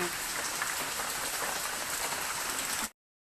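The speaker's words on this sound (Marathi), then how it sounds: "दन दन दन दन पाऊस लय जोरात पाऊस आहे" Heavy morning rain in Parbhani hisses steadily and densely on a surface, a constant even roar that cuts off abruptly at the end.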